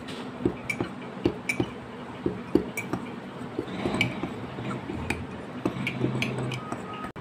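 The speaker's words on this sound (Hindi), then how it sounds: "अच्छी तरह से मिक्स करेंगे ताकि सब मिक्स हो जाए" Spoon stirring eggless chocolate mug cake batter in a mug, giving repeated light clinks and taps against the side in an irregular rhythm, close and fairly quiet with no talking.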